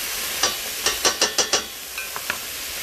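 Onions, celery and carrots cooking in a soup pot, with a short run of soft stirring scrapes and light sizzle, about eight brief strokes, close and fairly quiet, with no talking.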